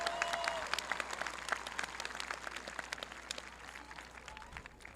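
Audience at a school National Honor Society ceremony claps in a sustained round of applause, dense and fairly even, heard from a distance in a large room and slowly tapering toward the end.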